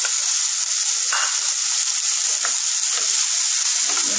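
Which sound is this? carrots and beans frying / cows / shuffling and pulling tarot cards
carrots and beans frying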